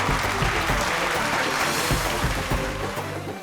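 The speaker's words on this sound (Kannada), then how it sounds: "ನೀವು ಚಪ್ಪಾಳೆ ಹೊಡೀರಿ." A studio audience claps at a comedy show, a thick steady round of applause that fades slightly toward the end, with faint voices mixed in underneath.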